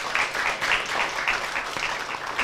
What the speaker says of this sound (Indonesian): Boleh saya minta tepuk tangannya?